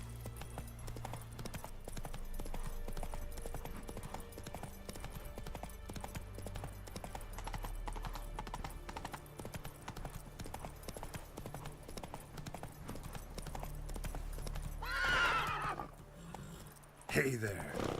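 Roach the horse gallops in The Witcher 3 with a fast, steady clip-clop of hooves. A player talks over it, and near the end there is a short neigh and a sharp thump.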